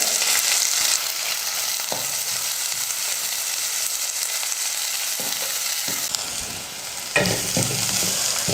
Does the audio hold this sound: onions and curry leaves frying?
yes